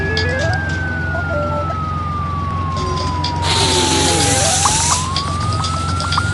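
A loud wailing ambulance siren sweeps slowly down and then rises again, close and continuous, with a steady engine rumble underneath.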